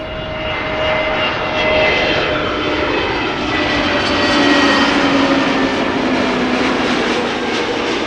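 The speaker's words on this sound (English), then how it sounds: "EasyJet A330 Neo having arrived from Belfast" An easyJet Airbus A330neo jet airliner's engines roar steadily nearby while arriving at Amsterdam Schiphol Airport, a loud broad rumble with whining tones that swells slightly as the plane passes.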